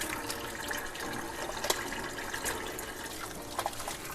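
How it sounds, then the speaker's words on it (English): A kitchen tap runs while hands are washed, a continuous close hiss of water with small splashes breaking its even flow. "Wash up the hands."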